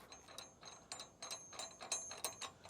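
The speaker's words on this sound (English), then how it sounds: "hand tighten this guy down" A heavy-duty Mount-n-Lock ShakeStopper hitch gets its anti-rattle bolt hand-tightened, giving a quick run of faint, close metallic ratcheting clicks in an irregular rhythm.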